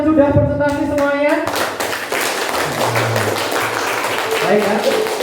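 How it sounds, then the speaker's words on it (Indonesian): A classroom of students claps for classmates who have just presented, a teacher's voice leading into a burst of close, uneven hand claps and taps that continues with some talking underneath. "tepuk tangan untuk yang sudah presentasi semuanya"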